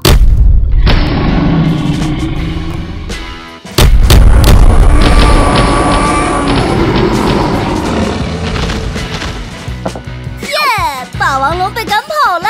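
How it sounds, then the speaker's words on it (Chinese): A cartoon cannon fires in a children's animation, with a loud boom that cuts in sharply and rumbles on for several seconds under music and childlike voices, followed by further lively sound effects. "准备开炮！"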